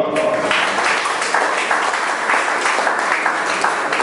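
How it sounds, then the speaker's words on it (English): An audience at a book discussion on snakes breaks into sustained applause, dense, even clapping from many hands that fills the room throughout. "Please give him a round of applause."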